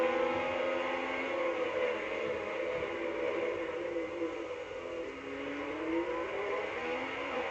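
Formula 1 race car engine in a video game at the Bahrain Grand Prix, a steady high-pitched whine running throughout with shifting revs, loud and continuous with no one talking.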